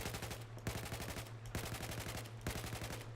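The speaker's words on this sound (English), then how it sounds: "what we want to do is more burst fire these weapons" Short bursts of assault rifle fire in Battlefield 4 sound as rapid, evenly spaced shots, three or four clusters separated by brief pauses, sharp and up close, with no talking.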